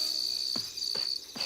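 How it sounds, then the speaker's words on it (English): A steady high cricket trill runs throughout, interrupted by three soft descending sweeps at even intervals; no talking. "Then, he heard something. A cricket."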